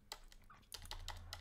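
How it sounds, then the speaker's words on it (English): Quick keystrokes on a computer keyboard, about eight faint clicks in an irregular rhythm over a low hum, with no talking. "You just type on your keyboard"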